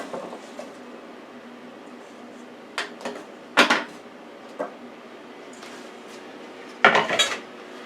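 Butternut squash being put into a pan in a home kitchen, with scattered clanks and knocks of cookware and utensils against a quiet background.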